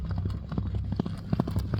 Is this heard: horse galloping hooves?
yes